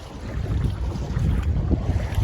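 Wind blows across open floodwater, a steady broadband rushing roar with low buffeting rumble close on the microphone, continuous with no pauses.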